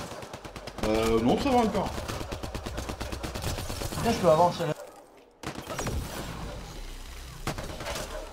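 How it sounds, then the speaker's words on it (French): Rapid weapon fire from an ice cannon in the Mass Effect Andromeda video game, bursts of gunfire-like shots under excited French-speaking players, with a brief drop to near silence midway before the noise resumes. "Il tire où ce canon de glace?"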